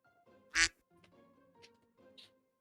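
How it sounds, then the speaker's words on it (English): A duck quacks in a few separate calls, the first loud and close, the later ones softer, with quiet gaps between them and no speech. "Who's quacking?"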